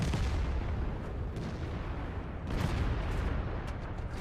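Tank cannon shots in a tank combat video game, heavy booming rumbles over a continuous loud engine and battle roar, with a couple of sharper blasts standing out.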